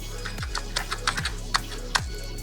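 Stupidly loud keyboard clacking slowed down, heard as a handful of deep, drawn-out clacks with falling low thuds, spaced irregularly over a steady low hum.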